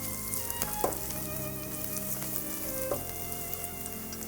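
Grated coconut and onion frying in a pan, a steady close sizzle with a couple of soft scraping stirs, and no voices.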